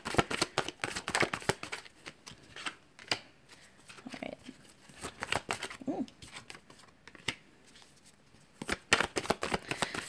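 Tarot cards are shuffled and drawn, giving soft, close riffling and flicking sounds in irregular bursts with sharp card snaps, fairly quiet throughout.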